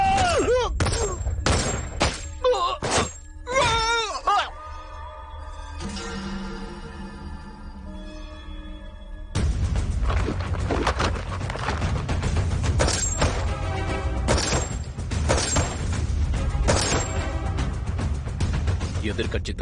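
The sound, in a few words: gunfire from a firing squad in a film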